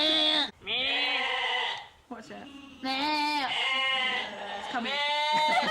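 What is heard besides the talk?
sheep bleating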